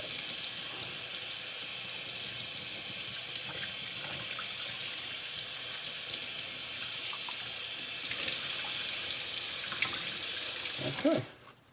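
Water runs steadily into a sink as doll wig dye drains, a constant splashing hiss that grows louder near the end before a few clunks.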